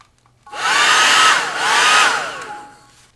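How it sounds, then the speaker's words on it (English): A hair dryer blow-drying wet paint on a painting, loud and close, whirring in two sustained bursts with rising and falling pitch as it is moved, then cut off. "I'm going to go ahead and blow dry this."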